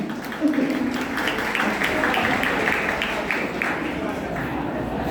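Audience applause at an anime convention panel in Cariri, Brazil: a steady wash of clapping from a crowd that holds for several seconds, with voices mixed underneath.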